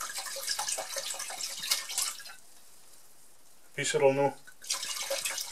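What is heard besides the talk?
pouring dry red wine into a Dutch oven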